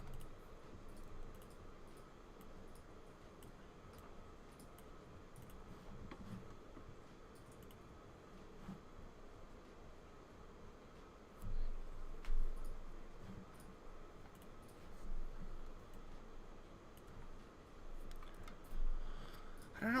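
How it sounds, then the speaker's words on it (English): Computer mouse clicks during a live design work session, sparse sharp taps scattered over a steady low background hum, close to the microphone with no talking. "I can super hear your mouse clicks tonight, and I usually never can"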